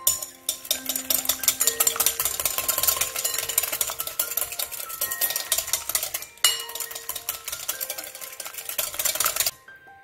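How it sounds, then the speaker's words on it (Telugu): Eggs, vanilla essence and sugar being beaten into a foamy sponge cake batter, with a dense, fast run of whisk strokes clattering against the bowl. The beating is close and steady for nearly ten seconds, with a brief break partway through. "సో అలా ఫోమీ టెక్స్చర్ వచ్చేంతవరకు బీట్ చేసుకోవాలి."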